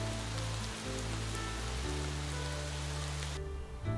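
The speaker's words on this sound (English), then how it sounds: "The second half of July was marked by a lot of thunderstorms." Heavy rain falls during a summer thunderstorm outdoors near a badger set, a continuous dense hiss of rain on surfaces that holds steady throughout.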